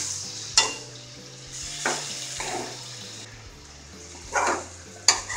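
Prawns coated in turmeric sizzle in a pan, with several separate bursts of stirring and scraping over a quieter, steady frying hiss.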